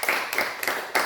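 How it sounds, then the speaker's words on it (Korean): A church congregation in a Korean service claps together in a quick burst of about four even, rhythmic beats, close and moderately loud. "애쓰셨다고 우리 박수 한번 할까요?"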